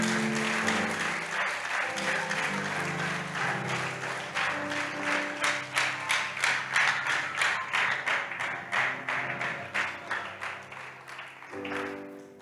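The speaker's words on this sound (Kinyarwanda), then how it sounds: "tumuha amashyi menshi cyane" A church congregation claps for Jesus in a rhythmic, pulsing pattern of hand claps that builds in intensity and then tapers off, with sustained musical tones underneath.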